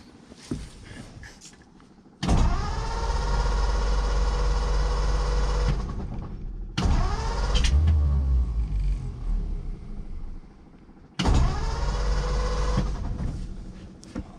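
The engine of a 1930 Ford Model A sedan cranks three times, each a long, loud, rumbling starter run with pauses between. After choking, it catches briefly and sputters during the second attempt.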